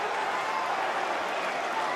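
Dense, steady roar of a stadium crowd at an A-League football match between Melbourne Victory and Western Sydney Wanderers, a continuous wash of cheering and scattered clapping with no pauses.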